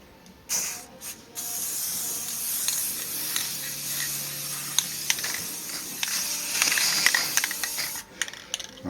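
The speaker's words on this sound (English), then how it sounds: "let's spray this clear" A spray can sprays clear coat onto a Onewheel board in bursts, with a rattle at the start, then a long continuous hiss at close range.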